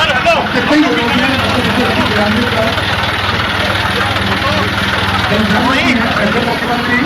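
Tractor engines idle at a historic tractor rally in Bhopal, a steady low rumble running beneath continuous talk and crowd noise.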